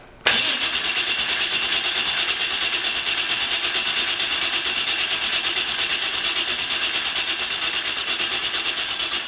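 A dragster engine cranks and catches after a brief quiet start, then runs as a loud, steady, pulsing roar right up close for the rest of the clip.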